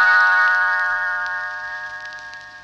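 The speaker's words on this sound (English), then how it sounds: "You will know it is time to turn the page when Tinker Bell rings her little bells like this." A cluster of small bells rings out in one bright, shimmering chime that sustains and slowly fades over a few seconds, serving as a page-turn cue on a children's storybook record.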